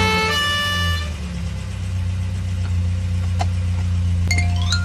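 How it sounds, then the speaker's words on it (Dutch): A fire engine siren wails loud and close over a rumbling truck engine, its pitch sweeping steadily, with a few short horn-like blips near the end. "Het is de brandweerauto."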